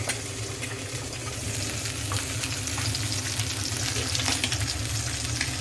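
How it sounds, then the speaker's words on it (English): Egg and bacon frying in a pan over a lowered flame for breakfast in Ceduna, South Australia, a steady, dense crackling sizzle that holds loud and even throughout, close up with no voices. "So the egg and the bacon are there already. We're going to lower the fire a bit."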